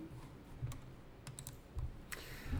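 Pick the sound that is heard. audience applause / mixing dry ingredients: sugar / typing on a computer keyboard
typing on a computer keyboard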